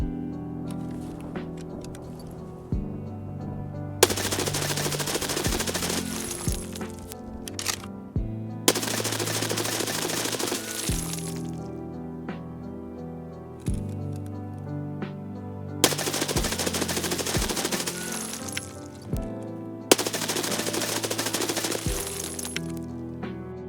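Rapid bursts of video game gunfire from a weapon point-fired while left shouldered, four loud sustained volleys a few seconds apart with quieter mechanical clicks and background game music between them.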